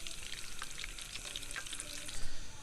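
Masala-coated fish fries in hot oil in a pan, giving a steady, close crackling sizzle with fine popping spatters throughout and a slightly louder burst near the end.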